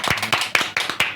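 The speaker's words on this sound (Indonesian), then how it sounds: "Tepuk tangan buat Hobi Papi." A few people clap briefly at the end of a podcast chat about betta fish hobby, sparse sharp hand claps in an uneven rhythm, close and short.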